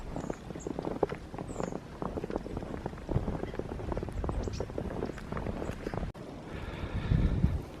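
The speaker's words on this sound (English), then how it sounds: "the wind's really shooting it across here" Strong wind blowing across a snowy combe in a blizzard in the Cotswolds, a steady roaring buffet with crunching steps, and a heavier gust of wind noise hitting the microphone near the end.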